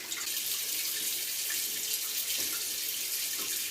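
Tap water runs steadily into a sink while a face is rinsed clean during an evening skincare routine with a chemical exfoliant, a continuous close hiss and splash with no talking.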